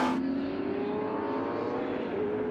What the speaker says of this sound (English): Beautiful sound of Trans Am at COTA.